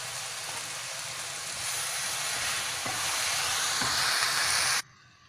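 Vegetables and egg stir-fried with salt and pepper, giving a loud, continuous hissing sizzle that swells slightly while being mixed and then stops abruptly near the end.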